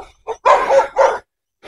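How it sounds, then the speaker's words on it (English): Neighbor's dogs bark in a short volley of about four loud, sharp barks with brief gaps, the longest a doubled burst near the middle, then quiet before a final bark. "Neighbor's dogs are definitely not happy."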